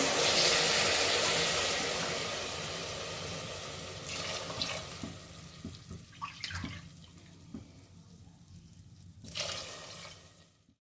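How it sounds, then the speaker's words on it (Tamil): Water pours steadily into a cooking pot for rice, a loud gushing stream at first that thins and breaks into softer splashes and trickles before stopping. "ஆறு கிளாஸ் தண்ணி ஊற்றிக்கலாம்"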